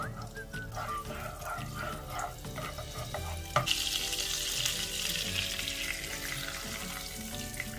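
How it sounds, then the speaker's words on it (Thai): Oil and butter heat in a pan for creamy eggs: soft scraping and light sizzling at first, then a sudden sharp hiss that swells into a strong, steady frying sizzle close by, with no speech. "วิธีการทอดเราจะใส่น้ำมัน1ช้อนโต๊ะค่ะผสมกับเนยนะคะ1ช้อนโต๊ะ"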